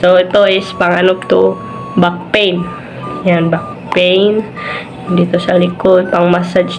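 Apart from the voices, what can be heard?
No distinct noise like a dog, phone or traffic.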